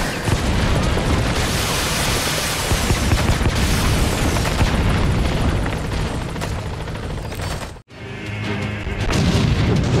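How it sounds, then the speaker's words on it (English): Rocket salvo explosions from a Super Smash Bros. game: a loud, dense barrage of booming blasts that rumbles on almost without pause, breaks off sharply for a moment, then resumes. "Rocket salvo! Rocket salvo!"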